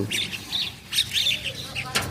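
Several small birds chirp and tweet in quick, overlapping bursts close by while being fed in the morning, busy and lively.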